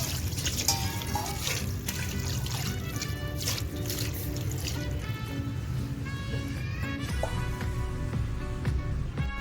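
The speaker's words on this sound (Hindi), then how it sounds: "ठंडा पानी डाल दीजिए।" Cold water is poured from a tap over boiled cauliflower in a strainer, making a steady trickle and splash with small metallic clinks throughout.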